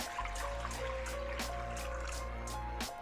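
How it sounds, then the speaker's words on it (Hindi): Water pours steadily into a kadhai, a wok-like Indian pan, in a continuous trickling stream with low splashing beneath it, close and moderately loud. "यहाँ पे मैंने एक कढ़ाई ले लिया और उसके अंदर 1 किलो के जितना मैं पानी डाल दूँगी"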